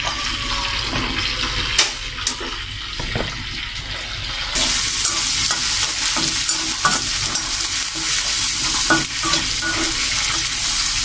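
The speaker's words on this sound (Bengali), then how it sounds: "এই যে এটা এদিকে কিন্তু ভাজা শুরু হয়ে গেছে" Loitta fish fries in a pan with a steady, bright sizzle that grows louder partway through, joined by occasional clinks and scrapes of stirring utensils, with no voices.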